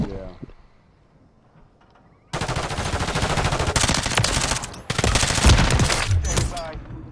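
Rapid automatic fire from an MP5 submachine gun in Call of Duty, loud bursts after a quiet opening, continuing with brief breaks and overlapping game effects.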